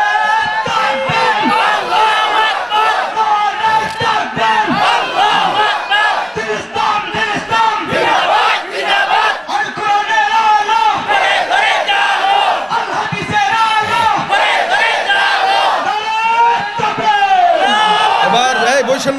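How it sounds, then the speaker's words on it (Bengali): A large crowd at a Bangla religious sermon gathering chants the takbir Allahu Akbar in unison, a loud, sustained roar of many voices rising and falling in repeated shouted calls that fills the whole stretch. "আমি একটু নারায়ে তাকবীর বলবো, আল্লাহু আকবার ধ্বনি দিয়া একসঙ্গে সবাই দাঁড়াইবেন"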